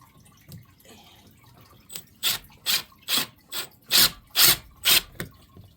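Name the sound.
screwing a cat shelf bracket into the wall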